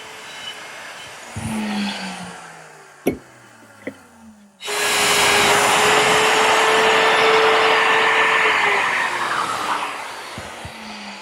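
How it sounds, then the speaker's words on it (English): A woodworking router in a dovetail jig cuts the tails on a drawer side, first with a few clicks and knocks, then a loud, steady motor whine that holds for several seconds before winding down. "I'm going to cut the tails first"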